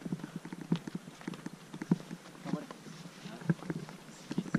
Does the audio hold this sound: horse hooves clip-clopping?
yes